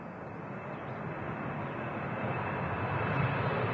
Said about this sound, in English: Austrian Embraer now rolling on 2-3 right, heading back to Vienna